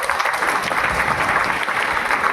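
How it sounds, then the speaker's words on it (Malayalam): An audience at a community hall renovation inauguration in Mattancherry claps in a brief, dense burst of applause, close and loud throughout. "കുടുംബശ്രീക്കാരുടെ ഒരു നല്ല കയ്യടി നല്ല പ്രവർത്തനത്തിന് കൊടുക്കണം എന്ന് ഞാൻ അഭ്യർത്ഥിക്കുകയാണ്"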